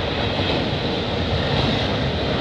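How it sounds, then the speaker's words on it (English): Freight train rolling past with a rear distributed-power locomotive approaching, a dense, steady rumble of cars and wheels up close, no talking. "We got a rear DPU coming up."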